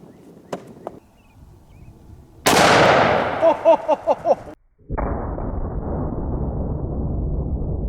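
Booming gunshots from a .500 S&W Magnum snub-nose revolver fired outdoors, one loud blast followed by a ringing echo, then a second sharp report with a long roaring tail; no talk.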